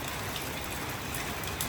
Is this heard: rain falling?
yes